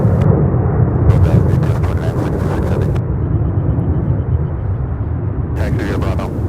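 A heavy UPS freighter jet takes off fully loaded for Honolulu, its deep, continuous engine roar rumbling loud and steady, with bursts of crackly radio chatter over it.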